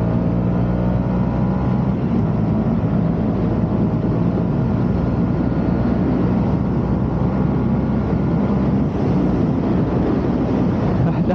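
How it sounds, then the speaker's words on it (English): A 2022 Honda CB125R motorcycle cruising at road speed, with a steady engine drone and heavy wind buffeting across the microphone throughout, loud and continuous. "it gives you guys a good impression of how the bike operates at these different speeds"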